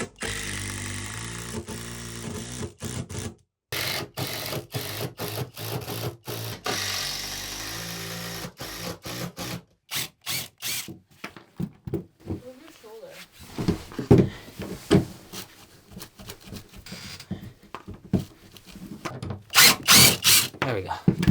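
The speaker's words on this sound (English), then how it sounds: "So I'm gonna start screwing it in." A power drill drives screws into a plywood subfloor in a small log cabin under construction, in repeated bursts of whirring and stopping across the clip, with a person talking in between.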